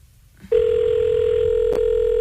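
A steady telephone line tone during a call starts abruptly after a brief quiet moment and holds loud and unbroken, with a short click partway through.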